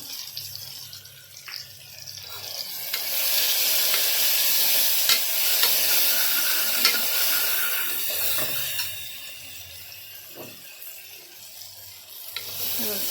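Salted tomatoes sizzle in a pan for chicken gravy while a spoon stirs them, making a continuous close hiss with scraping and soft clatters, louder in the middle.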